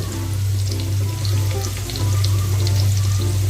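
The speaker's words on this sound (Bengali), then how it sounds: "এবার আমি প্রথমে আলুগুলোকে ভেজে নেবো" Potatoes with salt and turmeric fry in mustard oil in a frying pan, making a dense, continuous hiss over a low steady hum, close and fairly loud throughout.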